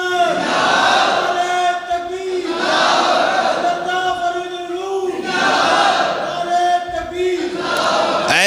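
A large crowd at a religious gathering chants a slogan in loud, rhythmic unison, each shouted phrase rising and falling in repeated waves, strong and close.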